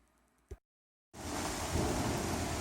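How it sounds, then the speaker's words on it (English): A thunderstorm breaks out, with a sharp crack, a moment of silence, then heavy rain and deep thunder roaring loudly and continuously, with no talking. "There's a thunderstorm warning. All of a sudden, out of the blue."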